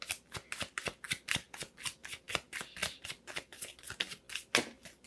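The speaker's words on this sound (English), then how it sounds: "Let me just pull one more card, okay?" Tarot cards being shuffled and pulled from the deck, a steady run of crisp riffling slaps and flicks close up, with a sharper snap near the end and no talking.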